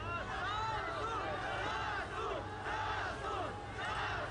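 A large crowd at a public protest rally in Yerevan, Armenia cheers and shouts for a favored speaker, a sustained, somewhat distant roar of voices with swelling calls throughout.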